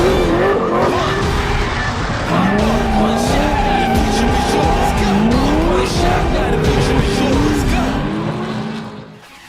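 Tires of a BMW M4 drift car squeal and skid continuously over a roaring engine, with wavering high-pitched screeches rising and falling, loud and close.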